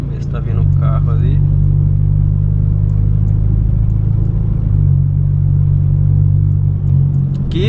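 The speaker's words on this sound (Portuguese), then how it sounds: "Tá vindo um carro ali" A car drawing near on a street beside a 2016 BMW 320i Sport 2.0 Stage 2 on M3 wheels, a loud steady engine rumble holding throughout under brief talk at the start.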